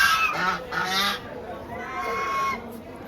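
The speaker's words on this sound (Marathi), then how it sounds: "बदक इथे येऊन बसले" Ducks at a resort giving loud honking quacks in a few bursts, nearby, with faint background ambience.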